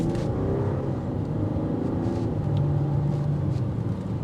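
A 2025 BMW X6 xDrive40i with its turbocharged straight-six engine accelerating, a steady close low rumble and whir of engine and road noise throughout, without talk.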